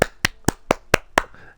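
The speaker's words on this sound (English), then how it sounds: "Everybody clap your hands." Six sharp, evenly spaced hand claps in about a second and a half, close and crisp with silence between each, no voices.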